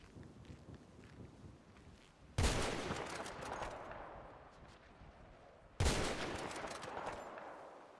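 Two sharp gunshots ring out during a rabbit hunt, fired from behind another hunter. Each report is loud and sudden, spaced about three seconds apart, with a long rolling echo trailing off in open country.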